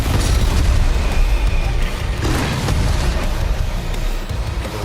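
Weapon barrage in Doom Eternal tearing through enemies: a loud, continuous wall of booming explosions and crackling blasts that stays dense and heavy throughout.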